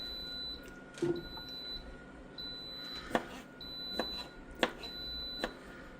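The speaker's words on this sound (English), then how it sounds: "My pressure cooker is done, but it needs 5 minutes release. Why are you beeping?" A pressure cooker gives a series of thin, high electronic beeps in a regular rhythm as it finishes, with scattered clicks and knocks of kitchen activity in between.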